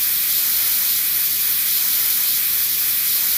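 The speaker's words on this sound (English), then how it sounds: "Let me grab the spray can." A spray can hisses in a WWE 2K23 wrestling game, a loud steady burst of broadband spray noise running unbroken for the whole stretch with no voices.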